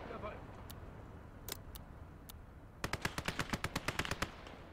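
Machine gun fire in the WWII video game Gates of Hell: a few scattered single shots, then a rapid, loud, evenly spaced burst of about a dozen rounds, with voices talking faintly in the background.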